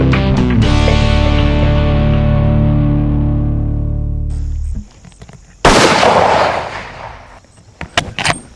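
Rifle shot fired at a 100-yard target with a scope: a long ringing tonal decay, then a sharp loud crack followed by fading noise and a few quieter knocks.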